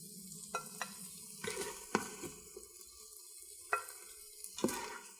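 Stirring veggie shrimp fried rice with vegetables in a hot pan on high heat: a steady low sizzle and frying hiss, broken by several sharp scraping clacks of the utensil against the pan.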